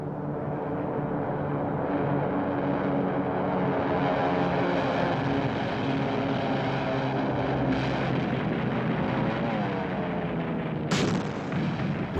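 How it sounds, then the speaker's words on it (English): Propeller-driven Second World War torpedo planes and dive bombers roar in a dense, sustained engine drone, with bursts of gunfire and a sharp crack near the end; there is no talk. "150 airplanes raced to strike back"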